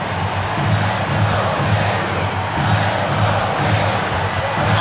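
A basketball arena crowd roars during a late fourth-quarter moment of an NBA 2K25 game, with a steady, dense wall of cheering and noise that stays loud and continuous throughout.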